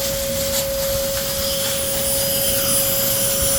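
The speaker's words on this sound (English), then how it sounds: "turn the air pump back on, and it'll agitate the air again in the media" An air pump runs steadily inside a Gc-tek 6.3 nano bead filter, churning bubbles through the bead media. The result is a constant rushing, hissing wash with a fixed hum, at an even level throughout.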